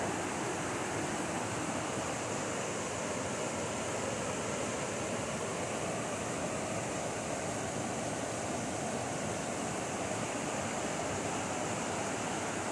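A steady, broad rush of flowing water from a river running nearby after hard rain, constant and fairly loud with no voices.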